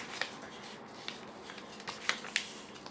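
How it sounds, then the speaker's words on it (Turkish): Rectangular colored paper being folded by hand for an origami crane, with soft crinkles and a few sharper creasing snaps spread across the clip, quiet and close, no talking. "Şöyle dikdörtgen renkli bir kağıdım var elimde. Bunu şu şekilde katlıyorum."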